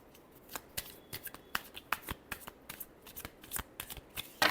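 Tarot cards are shuffled by hand close up, a series of crisp riffling slaps and flicks in an uneven rhythm, fairly quiet and with no one speaking.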